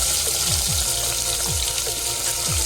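Chopped onions hit hot oil already crackling with mustard seeds and cumin for a puri curry, setting off a steady, close, hissing sizzle that holds evenly throughout.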